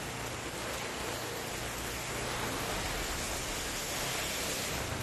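Heavy monsoon rain pours down over Kerala and Tamil Nadu in a dense, unbroken hiss of drops hitting the ground, loud and steady throughout, with no voices.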